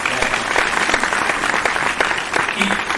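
Audience applause at a Hindi poetry recital in Mumbai, a loud, dense patter of many hands clapping that carries steadily through the whole moment, with a trace of voice mixed in.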